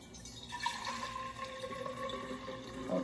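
Lemon water pours into a 64-ounce insulated cup, making a soft, steady trickling and filling sound with rising tone, faint and close, with no talking.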